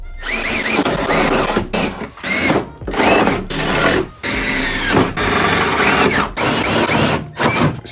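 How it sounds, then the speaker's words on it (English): A loud power drill whirs in repeated bursts, the motor straining as the bit bites into a Kawasaki ZX6R's ABS race fairing, with brief stops between each hole. "Whenever I drill a hole, I just put a bolt in there"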